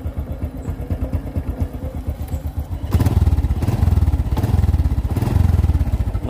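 Honda Supra 125 motorcycle from 2012, original condition with low mileage, its engine idling nearby with a steady, even pulsing rumble that grows louder about halfway through, with no talk.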